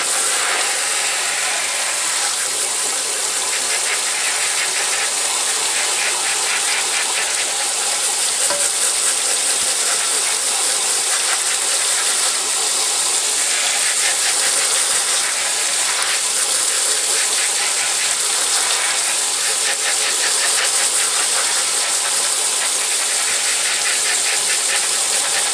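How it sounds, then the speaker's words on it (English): Hot water sprays in a steady, loud hiss over ground hamburger meat in a pan, a continuous rushing gush with faint sizzling texture throughout. "Spray down your meat again."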